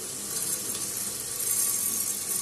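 Steady, close hiss of rice frying in hot oil in a pan for veg pulao, an even broadband sizzle with no speech.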